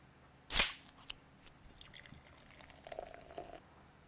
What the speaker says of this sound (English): someone opened a can bottle and poured a fizzy drink into a glass